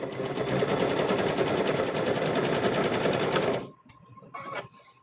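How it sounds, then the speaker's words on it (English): Sewing machine stitching around a quilted Halloween tote bag, a steady close rapid mechanical whir for several seconds that stops abruptly, followed by a brief quieter rustle. "We're just going to stitch this around here."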